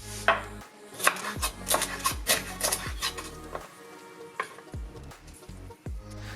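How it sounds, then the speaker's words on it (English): A knife cuts bell peppers into strips on a cutting board, a close run of crisp chops and thuds in uneven bursts with short pauses between. "So let's start by washing our peppers and cutting them into strips"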